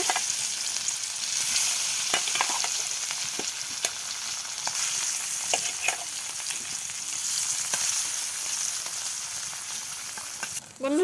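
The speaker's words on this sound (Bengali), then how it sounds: "তেল গরম হয়ে গিয়েছে এবার মাছ দিয়ে দিচ্ছে" Fish coated in turmeric, salt and chilli fries in hot oil with a steady close sizzle and frequent sharp pops and crackles, loud and unbroken, with no voices.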